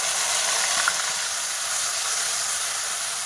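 Onion paste with cumin sizzling in hot oil, a dense, steady, loud hiss with faint crackles, close up and continuous.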